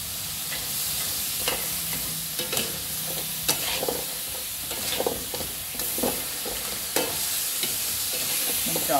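Tamarind sauce being stirred and mixed with sugar and seasoning in a pan, with a continuous soft bubbling sizzle and repeated utensil scrapes and taps at an irregular rhythm, close by.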